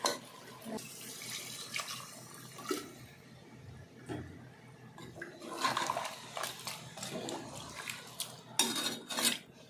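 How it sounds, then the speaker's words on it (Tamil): Water is poured into a pot of country chicken curry on a kitchen stove. A close splashing gush starts and stops in bursts, with light clinks of the pot and utensils. "இப்போ நாம் வந்து தண்ணி சேர்த்துக்கலாம்"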